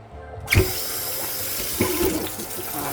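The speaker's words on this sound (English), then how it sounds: "Give them a rinse and get them cleaned up with some lemon." Tap water runs steadily into a kitchen sink while turkey necks are rinsed under it, with a louder splash near the start and another surge partway through, close and continuous.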